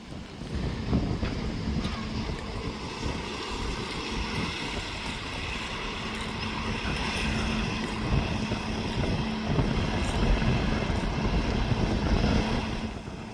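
A Swaraj 969 FE 4WD tractor pulling a cultivator while plowing a field, a steady engine drone with a constant low rumble throughout, alongside wind noise.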